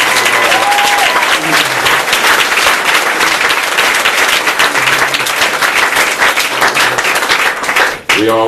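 Audience applause at a talk in a bookstore, honoring a woman in remission, dense steady clapping filling the room for about eight seconds with a few faint voices underneath, cutting off abruptly near the end.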